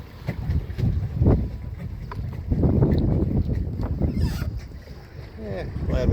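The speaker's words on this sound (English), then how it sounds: "we got a pretty good wind today blowing us around here." Wind gusting over a backyard pond while a small boat drifts, a steady rushing buffet with water sloshing and knocks, loud and close to the microphone, with some talking mixed in.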